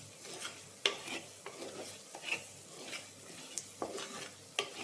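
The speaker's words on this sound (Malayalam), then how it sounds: "പൊടികളുടെ പച്ചമണം മാറുന്നവരെ ഇളക്കുക." Spice powders for a chicken masala sizzle softly in a pan while a utensil stirs and scrapes in irregular strokes, quiet and close with no talking.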